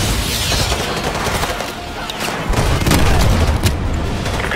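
Call of Duty Modern Warfare 2 Remastered battle: dense rumbling booms from an AGM missile strike mix with sustained crackling gunfire, loud and continuous throughout.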